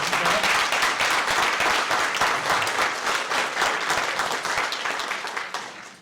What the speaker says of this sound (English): I'd like to give all the contestants a great big applause.